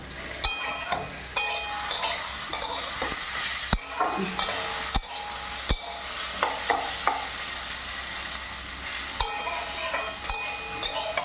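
Rice being stirred with spices in a pan for Bengali muri ghonto with fish head, giving a steady scraping sizzle broken by sharp spoon knocks against the pan at irregular intervals, close and moderately loud with no voices.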